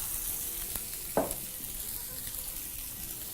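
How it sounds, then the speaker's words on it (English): Onions sweating and frying in a pan, a steady low sizzle throughout with one short clatter of stirring partway through, no talk. "Right now, your onions are now beautifully sweating away."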